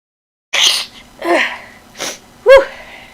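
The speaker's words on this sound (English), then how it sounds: "I think I'm gonna sneeze." A few sharp, breathy inhales build up and end in a single loud, stifled sneeze, close and alone in a quiet room.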